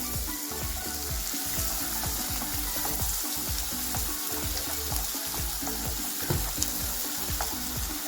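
Onion frying soft in a pan, a steady close sizzle running throughout with faint scraping stirs and small pops, no voices.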